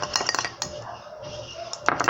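Homemade slime being stirred in a container, with light clinks and taps of a utensil against the sides, brief scattered strikes with quiet gaps between.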